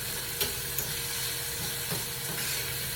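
Meat browning in a hot pan for BBQ meatloaf gives a dense, steady sizzle and hiss close by, with a few faint clicks of a utensil, no voices.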